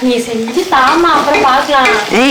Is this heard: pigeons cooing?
no